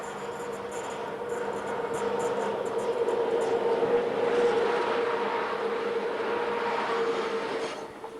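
South African Class 6E electric locomotive running, a steady mechanical hum with a strong sustained whine and rail rumble that swells toward the middle and fades slightly at the end.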